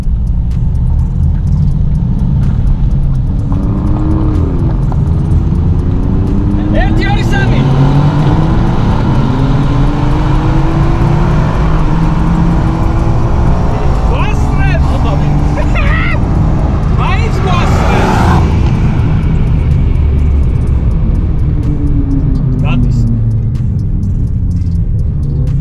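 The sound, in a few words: cars racing, drag race with a Mercedes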